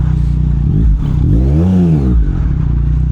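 A Yamaha MT-09SP motorcycle with an Akrapovic exhaust revs up and back down once, close and loud, over a steady low idle.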